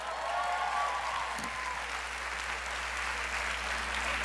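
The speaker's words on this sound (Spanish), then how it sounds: "Un aplauso para la gente de sonido." Audience applause for the sound crew at a student leadership showcase, a moderate wash of many hands clapping heard from a distance, steady throughout and slightly faint.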